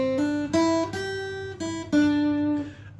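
Guitar playing a riff: a handful of plucked notes in a short rhythmic phrase, each ringing briefly before the next, close and clear with no voices.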